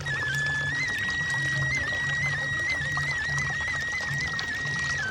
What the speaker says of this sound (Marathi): 24 तास पाणी वाहते.